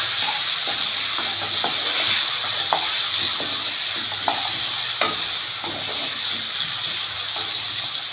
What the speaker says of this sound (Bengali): নুন হলুদ দেওয়া হয়ে গেছে। এবার খুন্তি দিয়ে নেড়ে নিচ্ছি।